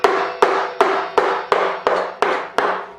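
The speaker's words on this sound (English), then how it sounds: "for a while with a hammer and a chisel or gouge" A hammer drives a chisel or gouge, a resharpened lathe turning tool, into elm while carving a bowl: eight sharp, close blows land in a steady rhythm about every 0.4 seconds, each with a short ringing decay and no talk.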